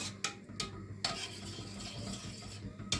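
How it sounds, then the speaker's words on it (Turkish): Tomato soup being stirred in a pot, with a spoon scraping and clinking against the sides in a steady rhythm and a few sharper knocks on the rim, close up and with no talking. "Evet, bu şekilde hala karıştırıyorum."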